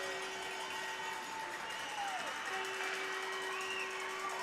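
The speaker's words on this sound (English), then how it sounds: "It's their home side cheering them on the whole way." Home crowd at a U13 AAA youth ice hockey game in a Berwick arena, a steady roar of cheering and whoops that carries on with no letup, with a sustained horn-like tone running through it.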